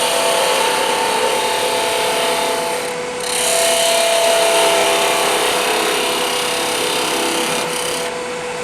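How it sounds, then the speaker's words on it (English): A parting tool cuts into a spinning wooden pepper mill on a lathe, giving a steady, loud rasping scrape with a brief dip near the middle before the cutting resumes; no voices. "I'll go ahead and take a parting tool"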